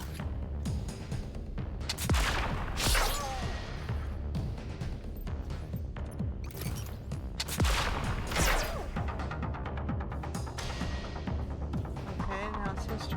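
Gunfire from a character shooting in Dead in Antares, with several loud bursts standing out from a dense bed of game music and effects while a person talks over it.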